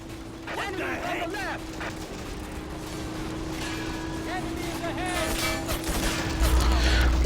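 Machine gun fire from a World War II-era battle in Men of War: Assault Squad 2, crackling in steady bursts under game voices and rumbling battlefield noise, growing louder toward the end.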